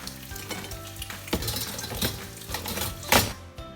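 Sausages and bacon frying in a pan for a typical English breakfast crackle and sizzle steadily, broken by sharp spits and pops and a few clinks of utensils.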